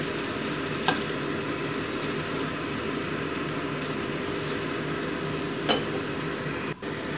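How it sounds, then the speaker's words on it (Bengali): Lentil dumplings (dal bora) fry in oil in a pan with a soft, continuous sizzle, broken by a few faint clinks of a utensil. "সেকেন্ড ব্যাচের বড়াগুলো কিন্তু আমার ভাজা হয়ে গেছে, তুলে রাখছি"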